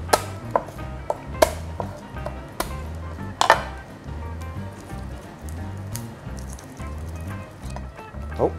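Garlic being smashed flat and chopped on a cutting board in a home kitchen, a few sharp knife knocks at irregular intervals over a low steady hum, close and fairly clear.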